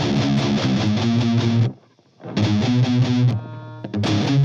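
A distorted electric guitar plays chugging chords through a cabinet, captured close by a Shure SM57 microphone, loud and dense, with a short gap of near silence and a brief muted stop before the riff resumes.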